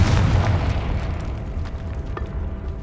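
A Confringo explosive spell from Hogwarts Legacy, set in a tomb, a heavy booming blast that starts loud and low, then trails off into a long rumbling decay with faint debris clatter.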